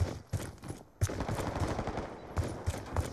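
Rapid bursts of gunfire crack through a shooter video game, uneven volleys of loud shots separated by brief pauses and repeating in quick, stuttering clusters.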